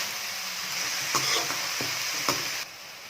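Coriander leaves frying in a pan for chutney make a steady, even sizzle, broken by a few scrapes of the stirring spoon before the sizzle drops off near the end.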